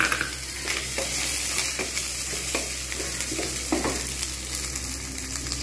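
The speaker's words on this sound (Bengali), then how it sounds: "এবার এর মধ্যে দিয়ে দেবো টমেটো।" Tomato sizzling in hot oil in a pan for a Bengali prawn and taro-stolon curry, a steady close crackle and hiss with soft stirring scrapes throughout and no voices.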